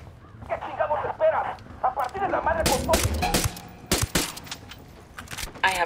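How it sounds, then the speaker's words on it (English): Gunshots ring out in the open-world tactical shooter Ghost Recon Wildlands, several sharp cracks scattered over about six seconds amid game ambience and talk. "Acabo de escuchar un tiro."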